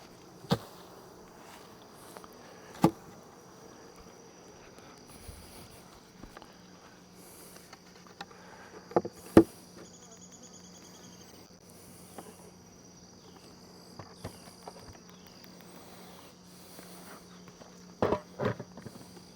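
A low, steady drone of honeybees inside a hive of swarm-caught and wild colonies under Apiguard mite treatment, faint and continuous, broken by occasional knocks and handling sounds.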